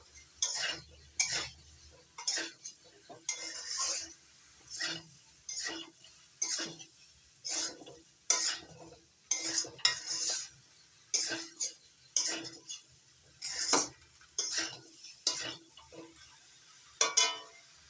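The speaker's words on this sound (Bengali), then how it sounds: "এখন চিচিঙ্গা আর আলু একসঙ্গে আরো 2-3 মিনিট কষিয়ে নেব" Ridge gourd and potatoes stirred in a pan over a medium flame, heard as a steady run of distinct spatula scrapes and clinks against the pan, roughly one each second, close and fairly quiet with no talking.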